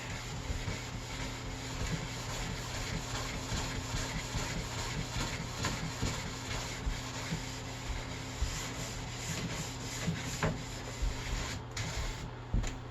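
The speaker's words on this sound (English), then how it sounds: "Polishing brush is really soft, and you just polish it up to a nice shine." A soft polishing brush rubs steadily over a hot-waxed Nordic ski, giving a continuous close-up brushing hiss with small repeated strokes and a low hum underneath, no talking.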